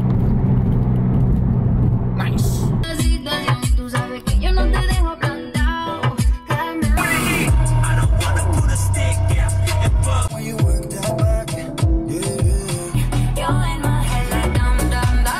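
An Audi is driven at highway speed over 60, giving a steady loud road and engine rumble with wind noise throughout, marked by repeated bumps and clatter.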